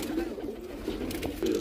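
Low, soft cooing of fancy domestic pigeons in a loft, a near, rolling coo repeating under a voice speaking over it.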